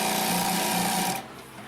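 A Consew P1206RB upholstery sewing machine stitches through six layers of fabric over foam, a fast steady mechanical whirring chatter that cuts off abruptly after about a second, leaving a quieter motor hum.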